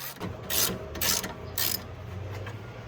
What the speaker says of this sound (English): So we're going to remove these 2 screws.